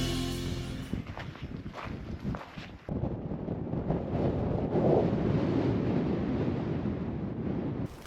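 Strong wind gusting across open Montana country near ancient hunting blinds, a loud continuous roar buffeting the microphone, with a rougher patch at the start and a sustained steady rush through the rest.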